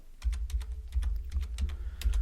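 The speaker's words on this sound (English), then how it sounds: "So you can hear I'm typing." Typing on a computer keyboard, a quick irregular run of crisp key clicks close by, alone and fairly quiet.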